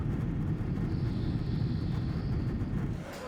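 Steady low roar inside the cabin of an ANA Boeing 777 in flight, a dense continuous engine and air rumble that stays even and loud throughout with no voices.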